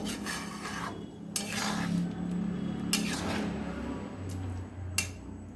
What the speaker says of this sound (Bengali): কেশরি মেথিটাকে একটু মিশিয়ে নেব।